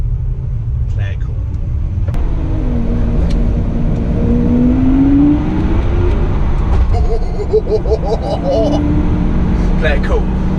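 Lamborghini Aventador SV cruising beside a McLaren 720S in Monaco, a steady low engine rumble throughout with a brief rising whine from the engine, voices talking over it.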